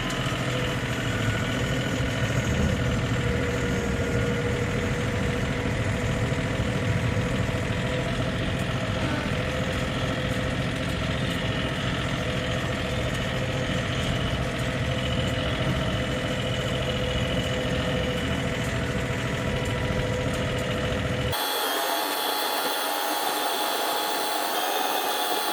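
A John Deere 3520 tractor engine runs steadily in high gear while moving snow at twenty below, a loud continuous close rumble with a buzzing whine that drops away abruptly near the end.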